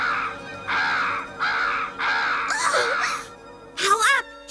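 A cartoon raven, voiced by a performer, gives several harsh, drawn-out caws in a row, then a rising, wailing squawk, loud and close in a German-dubbed animated episode.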